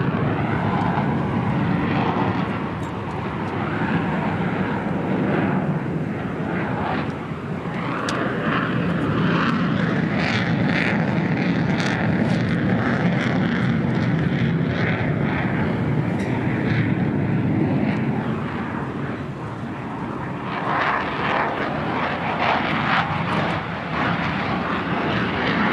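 An F-35C fighter jet making a high-alpha pass at a Fourth of July air display, a loud sustained engine roar that swells and shifts slightly as it passes, steady for the whole stretch.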